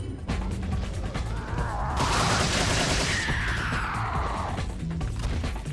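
A TMP submachine gun fires in Resident Evil 4 Mercenaries, a fast rattling stream of shots with mechanical clatter that swells into a loud dense burst midway and then tails off.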